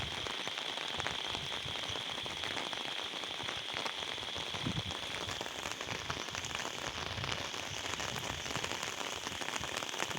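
Heavy rain pours down steadily over a village, a dense, continuous hiss of drops drumming on surfaces that fills the whole stretch with no voices.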